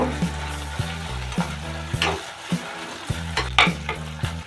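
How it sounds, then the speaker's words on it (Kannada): Crushed fresh ginger stirs and sizzles in a frying pan for Coorg chicken pepper fry, a steady close frying hiss broken by repeated scraping stirs of the spoon against the pan. "ಈಗ ಇದಕ್ಕೆ ಜಜ್ಜಿಟ್ಟಂಥ ಹಸಿ ಶುಂಠಿನ ಸೇರಿಸ್ಕೊತಾ ಇದ್ದೀನಿ"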